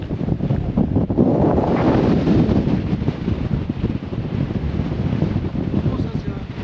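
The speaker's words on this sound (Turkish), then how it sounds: "Acayip bir rüzgar var." Strong, gusty wind on a volcano ridge at about 4000 metres, buffeting the microphone with a loud, continuous roaring rumble that swells and eases throughout.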